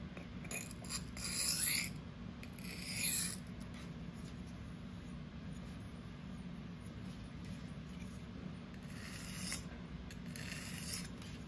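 A steel knife edge, REX-45 super steel, is stroked freehand across a sharpening stone with soft, light passes to remove the burr. Faint rasping swishes come in a few separate strokes over a steady low background hum, with no talk.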